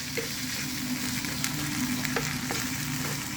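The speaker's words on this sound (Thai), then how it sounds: "ผัดไปจนกว่าหมูจะสุกค่ะ" Pork belly stir-frying with southern chili paste and a splash of water, giving a steady close sizzle with occasional scrapes and taps of a spatula, no voices.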